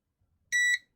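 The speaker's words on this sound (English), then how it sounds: "Let's go to beep mode." A multimeter in continuity beep mode, probing a Nintendo Game Boy Advance board, gives a single short, clear electronic beep in near silence, followed by a faint tick.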